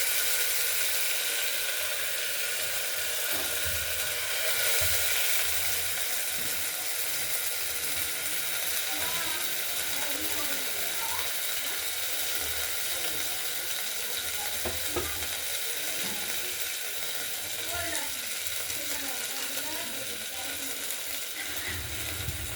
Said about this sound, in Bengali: ওইদিকে তেলটা গরম হয়ে গেছে। এবার মুগের ডালটা দিয়ে